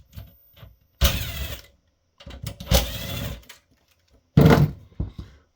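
Screws being driven out of the back of a Dell Optiplex 7010 small form factor power supply, heard as three separate buzzing whirs of a powered driver, each about a second long, with short quiet gaps between them.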